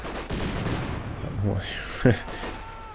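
A single aimed rifle shot in Company of Heroes 2, a sharp crack near the end. Battle sounds and a commentator's voice run before it.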